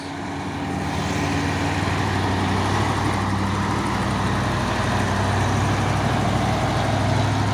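A Fuso Victor X truck engine labours up a hill, a steady, loud, low diesel drone that holds throughout with no pauses.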